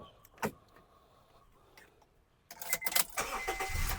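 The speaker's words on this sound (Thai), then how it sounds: "สตาร์ทที่เดียวติดครับ" A Honda Civic FD sedan starts: a few faint clicks, then the engine cranks and fires at once into a loud, close idle rumble after a quiet pause.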